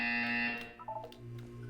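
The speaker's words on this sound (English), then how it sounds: "You will hear a buzzer." A synthetic buzzer tone sounds in the Portal 2 video game, a steady electronic drone that dips and wavers briefly before settling into a lower held tone, moderately loud, with no talk.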